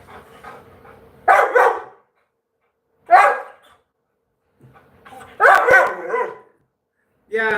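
A dog barks in short bursts indoors during a livestream, with a few loud barks separated by pauses and a quieter yip at the end, while a person speaks softly between them.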